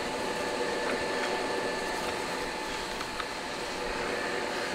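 A Lodge & Shipley Series 20 heavy-duty engine lathe, 24 by 150 inch, runs with a steady, even mechanical hum and broadband whir, fairly loud and uninterrupted throughout with no talk.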